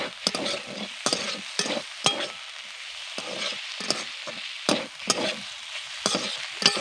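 Spatula stirring chopped onion into gima greens and potato frying in a pan, a series of sharp scraping strokes in irregular rhythm over a steady low sizzle, close and fairly loud.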